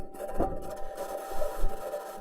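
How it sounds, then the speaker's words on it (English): Perseverance rover driving over Martian ground on its metal wheels: faint scraping, creaking and grinding with irregular low thumps and a thin steady whine underneath, quiet and close. "This is the sound of the Perseverance rover driving on its metal wheels."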